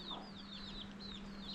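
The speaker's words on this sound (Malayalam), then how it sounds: "നമ്മുടെ കോഴികളിതാ" Hens kept at a family home clucking around the yard in a steady, soft stream of short calls, with no talk.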